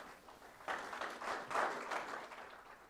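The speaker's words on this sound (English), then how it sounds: "Let's give a loud round of applause to all of them." An audience at a maritime event gives a round of applause, uneven clapping swelling and fading at moderate, somewhat distant level with no voices over it.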